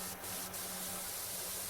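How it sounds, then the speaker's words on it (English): A pressure washer jet hisses steadily in PowerWash Simulator 2 while cleaning a removals van. The broad, close spray holds throughout, with a low hum beneath and a couple of brief sharper bursts near the start. "spraying from side to side. That's pretty nice."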